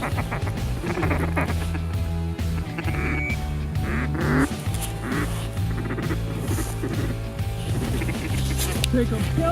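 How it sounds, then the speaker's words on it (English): Ducks quack in a wide field during a Kansas duck hunt, their calls mixed into a dense, steady bed of outdoor noise, with people talking throughout. "They're ducks."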